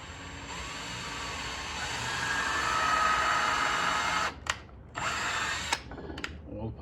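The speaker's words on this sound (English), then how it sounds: "drill some pilot holes for the bigger screws" A power drill whirs steadily for several seconds while drilling pilot holes for large screws, its pitch rising slightly, then stops and restarts in short bursts.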